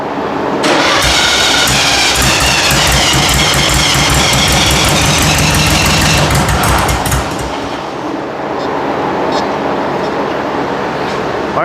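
A 40 HP Volkswagen engine in a rat rod truck cranks without catching for lack of fuel: loud, rhythmic starter churning for several seconds, then a brief dip before rough mechanical noise continues close by.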